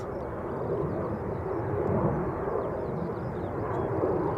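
Delta Airlines Airbus A330neo jet holding at the runway threshold at Schiphol Airport, a broad, steady roar that swells gently and stays fairly distant, with no talk over it.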